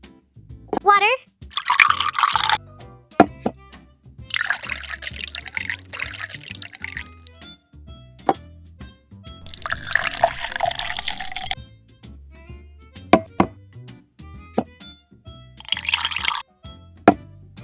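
Water poured in short bursts while baking a mini rainbow cake with chocolate drip, several splashy pours separated by pauses, with small clicks and taps between them, close and clear.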